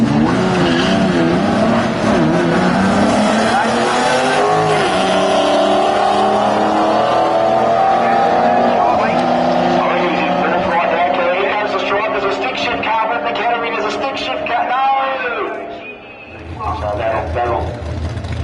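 A manual-transmission Dodge Charger drag racing a 6.4-litre Chrysler 300C at a Mopar car event, with loud sustained engine roar and rising revs across the run. Voices talk over it throughout.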